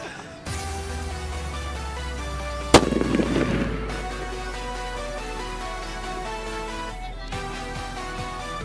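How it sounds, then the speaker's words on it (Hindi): A mirchi bomb firecracker goes off during Diwali with one sharp, loud bang and a short crackling burst after it. Music plays continuously underneath. "तो गाइस ये न्यू बम आया मिर्ची बम,"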